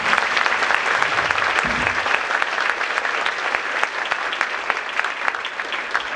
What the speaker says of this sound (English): Let's give you guys a great round of applause.